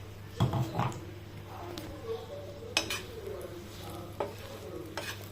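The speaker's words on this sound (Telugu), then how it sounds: "ఇప్పుడు మిగిలిన పప్పుల పొడి యాడ్ చేసేద్దాము, కలిపేద్దాము." Stuffed bajji chillies fry in oil as lentil powder is stirred in, with light sizzling, a few spoon scrapes and clinks against the pan, and some quiet room hum.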